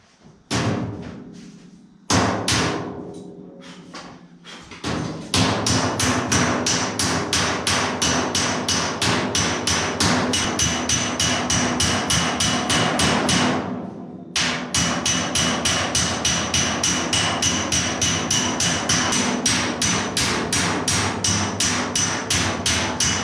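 A hammer strikes the metal roof insert of a Model A Ford in long runs of rapid, even blows, close and loud, with a short pause between bursts.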